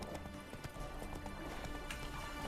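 Horse hooves galloping in The Witcher 3: Wild Hunt, a steady rapid clip-clop rhythm carrying through the whole stretch at moderate level over a busy game soundscape.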